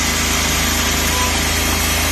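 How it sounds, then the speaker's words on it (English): A Suzuki Super Carry mini truck's small engine runs at a fast, steady high idle with the choke on, a loud, even buzzing drone heard close up with no speech. "And of course it's on the high idle because the choke is on."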